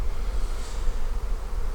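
Honeybees in an open beehive fill the air with a dense, continuous buzz, close and fairly loud, with no voices over it.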